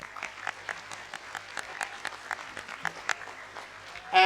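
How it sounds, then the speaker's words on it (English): Audience clapping at an inter-house science quiz for grades 4 to 6, a modest, fairly sparse patter of claps at a moderate level that ends abruptly in a louder burst. "a loud cheer of clap for the audience for being a wonderful audience"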